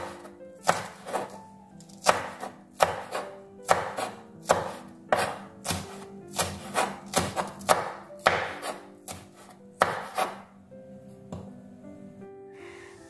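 Spring onion being chopped on a cutting board, a close, loud run of sharp knife strikes in an irregular rhythm, with brief pauses between bursts.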